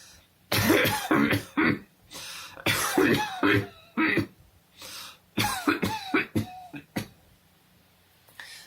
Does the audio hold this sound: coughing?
yes